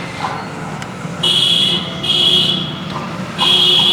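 Beeps from a PQWT S500 underground water detector reaching 100%, three loud, steady high-pitched tones repeating at an even pace over a constant background hum.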